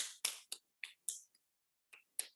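Hands pat the body in a series of about seven sharp, close slaps at irregular intervals, quiet, with silence between them and no talk.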